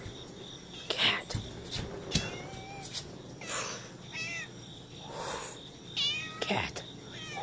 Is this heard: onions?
no